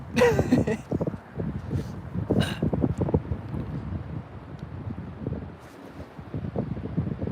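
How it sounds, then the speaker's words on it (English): Strong wind buffets a microphone outdoors in cold weather, a steady roaring gust noise with fluctuating intensity that runs continuously under occasional brief talk. "Man, that wind, my ears."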